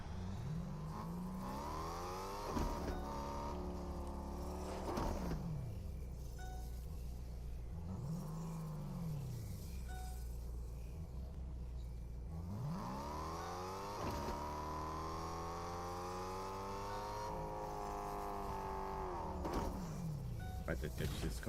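A car engine in a video game hums and rises in pitch through repeated gear sweeps, revving and easing off in waves over about twenty seconds, with a person talking over it.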